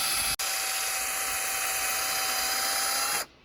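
A power drill whines at a steady high pitch for about three seconds, briefly cutting out near the start, then spinning down to silence.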